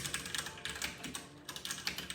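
Steady, rapid typing on a compact 60% Ducky Channel Mini 2 RGB mechanical keyboard with MX Brown switches produces soft, even clacks, close and continuous with no talk over it.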